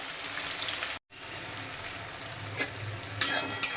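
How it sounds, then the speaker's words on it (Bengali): Onion, tomato, bay leaf and whole garam masala spices frying in a pan, a steady close sizzle with soft stirring scrapes, briefly cut out for a moment and ending with a couple of sharper crackles. "পেঁয়াজ টমেটো তেজপাতা আস্ত গরম মশলা ভাজা ভাজা হয়ে গেছে"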